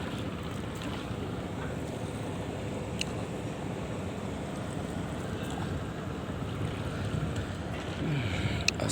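At a riverside ferry ghat in Dhaka, Bangladesh, a steady wash of boat engine drone, lapping water and wind noise runs without talk, with a few faint clicks and a slight swell at the end.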